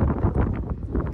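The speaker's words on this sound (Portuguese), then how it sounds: "olha o vento" Gusty wind buffets the microphone on a south-facing apartment balcony overlooking the sea, a loud low rumble that swells and eases in uneven waves.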